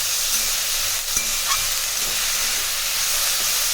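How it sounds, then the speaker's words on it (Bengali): Onions frying in a pan for baingan bharta make a continuous, dense, loud sizzling hiss close by, steady throughout with no talk. "পেঁয়াজটা দেখছেন দেখতে দেখতে একটুখানি কমে যাবে একটুখানি ভাজা হয়ে যাবে"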